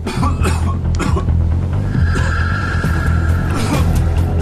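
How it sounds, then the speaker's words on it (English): Several harsh, dry coughs from a man ill with SARS come in quick bursts over a steady low rumble, with a faint tonal hum partway through. "The dry coughing gets worse and worse."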